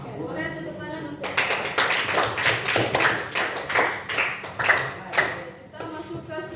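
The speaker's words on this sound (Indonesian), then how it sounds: "Oke, boleh tepuk tangan untuk" Applause from a classroom audience during a university teaching-assistant assessment in Bengkulu, a dense burst of clapping lasting about five seconds, with a voice talking briefly before and after.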